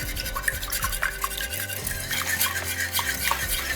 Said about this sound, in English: At this point, I'm also going to add in the Vegemite, and then we're going to whisk it all together.